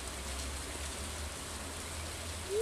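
Steady rainfall in the game Stardew Valley, a soft continuous hiss of drops with a low rumble underneath, even and unbroken throughout, with no talking.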